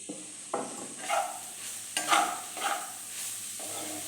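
Paneer is stirred and mashed in a pan with the flame off, a spoon scraping and pressing in repeated bursts with a few sharper knocks against the metal, close and clear with no talking.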